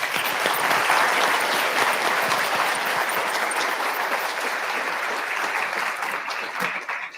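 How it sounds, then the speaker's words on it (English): An audience applauds a speaker named Tamara at an event, steady dense clapping close and loud throughout, slowly thinning toward the end. "Let's give another round of applause for Tamara"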